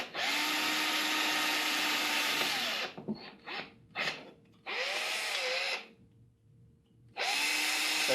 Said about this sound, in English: We marked it, and we'll drill that out.